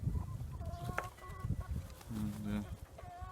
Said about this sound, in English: Laying chickens